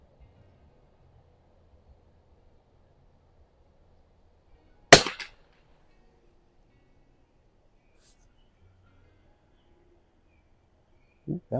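A single sharp rifle crack from a TOZ-12 target rifle firing Eley Club ammunition rings out alone in a quiet outdoor setting, with a couple of faint clicks near the end.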